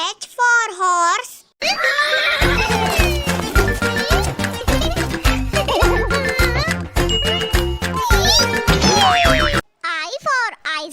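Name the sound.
horse neighing sound effect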